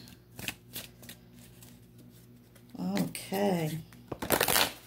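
A deck of Madame Endora oracle cards being shuffled by hand, with soft repeated riffling and slapping bursts close by, broken up by a spoken word and humming and ending in a louder flurry.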